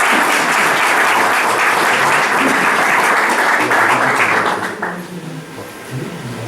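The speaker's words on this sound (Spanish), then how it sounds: "un aplauso para ellos" Audience at a poetry reading by Dolors Alberola applauding loudly in a dense, steady roar of clapping that fades out after about five seconds into quiet room noise.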